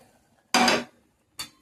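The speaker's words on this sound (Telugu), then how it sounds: "ఇప్పుడు పాన్ పెట్టాను కదా" A metal pan is set down on a stovetop to start a tempering for mango ginger pickle. There is one sharp clattering knock, then a shorter, lighter clink a moment later, both close by in a quiet kitchen.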